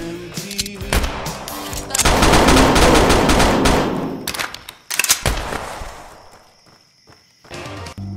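Bursts of video game gunfire and rapid automatic fire crackle through a busy, loud mix of game sound and music, dense for several seconds, dropping away, then returning in short volleys.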